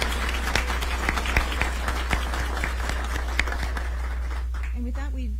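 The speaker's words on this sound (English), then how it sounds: "a round of applause for you all" A room of people at a mayor's news conference for the Aging Partners relocation celebration claps steadily, with dense, even applause that fades out as a voice starts speaking at the end.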